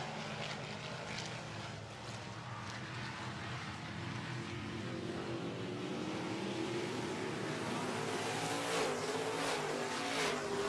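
Midwest Modified race cars roar around a dirt racetrack during a B Main event. A dense, continuous engine drone holds steady with rising and falling pitch as the cars pass, and there is no talking.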